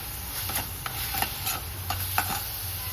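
Pepper mushrooms fry in a pan with a steady low sizzle, broken by several sharp scraping stir strokes from a spatula at irregular intervals, heard close up with no voices.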